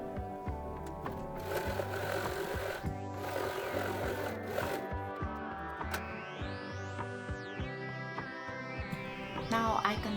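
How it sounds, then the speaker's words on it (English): A sewing machine stitches the inside layer of a tote bag in rapid mechanical bursts, with the motor running, pausing and restarting as the fabric is guided through; it is close and moderately loud, with no speech. "Sew the inside layer, but I will leave us 5 to 6 inches opening for later."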